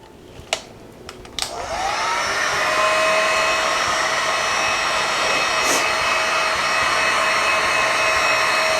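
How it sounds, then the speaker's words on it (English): A heat gun blows steadily in a craft setting, starting after a few sharp clicks and handling knocks, then holding a loud, even whooshing roar with a constant whine for several seconds. "I'm gonna get the heat gun out again"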